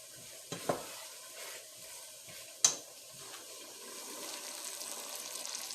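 Ground meat browning in a pan, a soft constant sizzle broken by a few sharp scrapes and knocks of a utensil as it is stirred, no talking.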